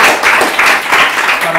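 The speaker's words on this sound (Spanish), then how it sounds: "Un aplauso para ellos." A live audience at a Berlin-style salon performance claps for the performers. The applause is loud, close and continuous, with a voice briefly over it.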